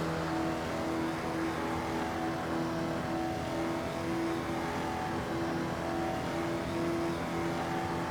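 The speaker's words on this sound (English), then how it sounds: "The roar of the Jaguar engine, muted by regulations." A Jaguar race car engine, muted to meet regulations, drones steadily from inside the car during a Le Mans-style night race, a constant mid-pitched roar with no talking over it.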